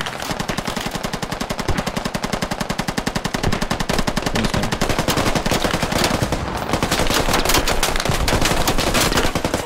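Sustained rapid automatic gunfire from a military shooter game rattles continuously and loudly for nearly ten seconds, with dense overlapping bursts.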